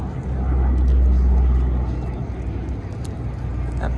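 Low, rumbling airplane engine drone at a military air base air show, swelling and then fading slightly, with crowd murmur and people chatting nearby.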